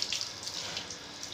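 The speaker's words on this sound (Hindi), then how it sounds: "बैक साइड से भी थोड़ा सा पानी मार देंगे हम यहाँ से भी।" Water spraying from a hose or tap while a dog is bathed, a short, fairly soft hiss of running water with no talking.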